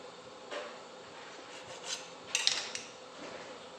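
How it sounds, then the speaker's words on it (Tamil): Knife cutting rolled aloo paratha dough on a board, a few soft scraping and tapping strokes with a sharper clatter midway, close and quiet. "ரோல் பண்ணிவிட்டு இப்படி கட் பண்ணிக்கலாம்."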